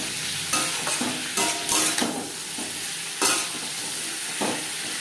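Cauliflower stalks and papaya sizzle in a pan with salt and turmeric, a steady close frying hiss broken by several scraping stirs of a utensil against the pan.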